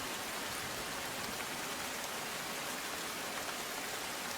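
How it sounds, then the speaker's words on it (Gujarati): Light drizzle falling in Ahmedabad's Akhbarnagar area, a soft, even hiss of rain held at a constant faint level throughout, with no voices. "ઝરમર પણ વરસાદની શરૂઆત થઈ છે"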